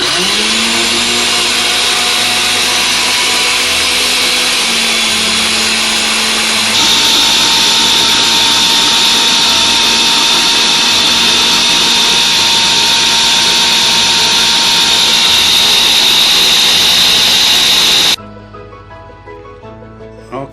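A countertop blender runs loud and steady while blending Jamaican green seasoning, its motor whine shifting pitch partway through before cutting off abruptly, leaving a quiet tail.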